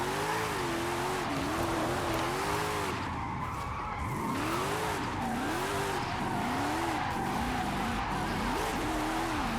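Nissan 370Z Formula Drift car in Forza Horizon 5 racing game, engine revving up and down through sequential gear shifts while tires squeal continuously through a sustained drift.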